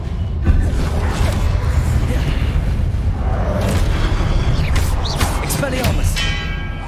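A fire spell cast in the video game Hogwarts Legacy, a roaring whoosh of flame with a booming burst that runs dense and loud through the whole stretch, with crackling bursts near the end.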